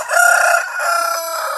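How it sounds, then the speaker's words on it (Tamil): A rooster, one of two kept on a farm, crows in a single sustained call, loud and close, its pitch wavering before trailing off. "இதுதான் ஒரு சேவல்"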